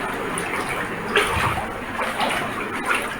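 Floodwater after heavy rain runs through houses in a flooded Uttarakhand area, a steady, rushing wash of flowing water that stays close and fairly loud for the whole stretch, with no voices.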